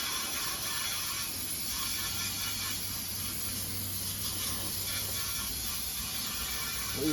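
Spray can spraying liquid onto a find during cleaning, a steady continuous hiss that runs unbroken throughout at moderate level.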